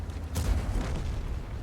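A tank cannon fires once in World of Tanks, a sharp boom with a rolling low rumble that fades out over the next second.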